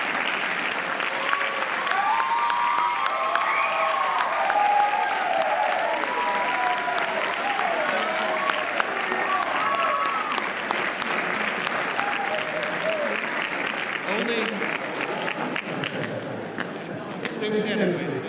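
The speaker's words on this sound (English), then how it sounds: "I would like you to turn and applaud your parents and guardians and all of your loved ones." Graduation audience at Cushing Academy giving a standing ovation to parents and guardians, with dense sustained clapping and crowd voices that continue for the whole stretch and ease slightly near the end.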